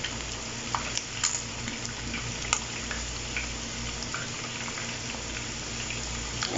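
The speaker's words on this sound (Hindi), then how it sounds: "ऐसे इसका कलर गोल्डन होने तक इसे फ्राई करना है। तेज आंच पे करेंगे" Chicken frying in oil in a pan over high heat for a restaurant-style pulao, a steady close sizzle with scattered small pops and crackles throughout, no talking.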